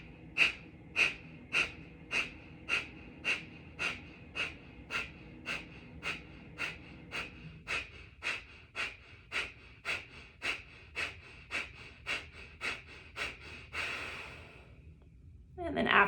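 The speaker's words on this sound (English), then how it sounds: "So you'll start by taking a deep inhale in through the nose." Rapid rhythmic breathing exercise through nose and mouth: about twenty quick, evenly spaced sharp breaths in a steady pulse, then a longer drawn-out exhale near the end, close and fairly quiet.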